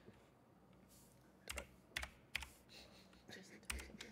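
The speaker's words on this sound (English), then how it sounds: "the keyboard clacking is just what I love to hear in the background of everything" Computer keyboard clacking in the background, scattered bursts of quick keystrokes, fairly faint and close-miked, with quiet gaps between runs.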